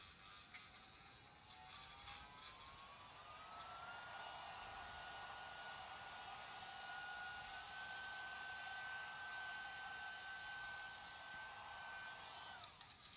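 A small, fairly quiet hand vacuum whines steadily for several seconds, its pitch rising as it spins up, while it cleans laser ash off the cut edges of wooden dollhouse parts.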